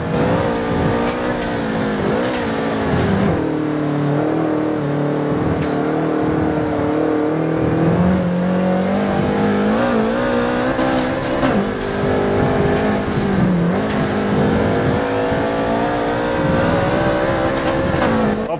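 A Subaru BRZ racing in Rio de Janeiro in Forza Motorsport, its engine droning loudly and steadily, with the pitch rising and falling through gear changes and revs, heard up close with no talk.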